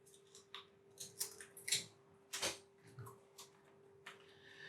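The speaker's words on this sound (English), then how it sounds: "I'm going to take this label off here because it's a brand new bottle" A label is peeled off a brand new bottle, a series of close, faint crinkling and tearing scrapes in irregular bursts, with no talking.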